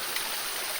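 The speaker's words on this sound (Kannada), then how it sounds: "ಅಲ್ಲಿಂದ ಹೀಗೆ ನೀರು ಬರ್ತದೆ." Water trickles and flows down from a village pond over stones and leaf litter, a soft, continuous rushing close by with no talk.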